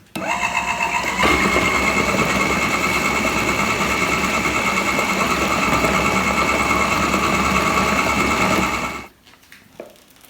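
A homemade ayran churning machine with a closed lid runs its motor steadily for about nine seconds, a loud continuous buzzing hum with rhythmic ticking, then cuts off, leaving faint clicks.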